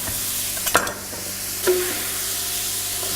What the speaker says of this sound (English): Go ahead and stir that up. Keep that moving.